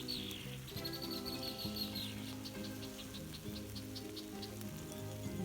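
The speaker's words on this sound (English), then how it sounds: "Those are blackbirds." Blackbirds call repeatedly in a spring rain beside a garden pond, with bright chirps standing out over a steady patter of raindrops on the water.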